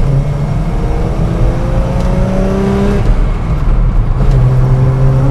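The engine of a Datsun 240Z, the Nissan S30 Fairlady, revs steadily while driving, a loud, close, continuous roar with rising and falling pitch sweeps and no voices.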